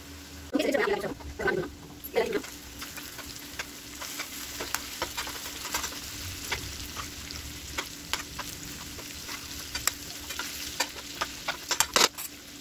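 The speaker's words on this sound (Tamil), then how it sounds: "சேர்த்து திருப்பி விட்டாச்சு. இது ஒரு 2 நிமிஷம் அப்படியே ரோஸ்ட் ஆகட்டும்." Halved boiled eggs roasting in masala in a pan for a lunch egg roast, with a soft continuous sizzle and repeated light scraping and clinking of a spatula close by, some sharp taps standing out, and no voices.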